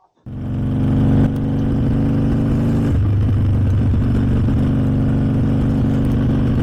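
A Harley-Davidson motorcycle engine with swapped mufflers starts up and runs steadily, loud and close, its low rumble deepening partway through as it revs, with no talking.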